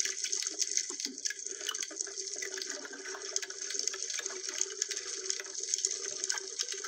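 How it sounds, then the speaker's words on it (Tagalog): Constant underwater hiss with fine crackling ticks like small pebbles grinding together, dense and even throughout, fairly loud and close, with no talking. "Parang nagkikis-kisan ng mga bato na maliliit."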